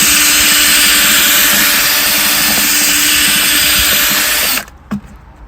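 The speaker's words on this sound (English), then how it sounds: "Just for the last bit, just to knock those lumps out, I've really sped this drill up." Power drill with a paddle spinning fast to mix plaster in a bucket, a loud steady high whine running unbroken for several seconds before cutting off abruptly near the end.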